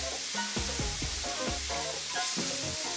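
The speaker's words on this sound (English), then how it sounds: "we're going to add our hot milk. Add it slowly and mix it through." Hot milk is poured slowly into melted browned sugar for a pudding and stirred through, making a loud, steady bubbling sizzle with repeated gurgling pulses, close and without talk.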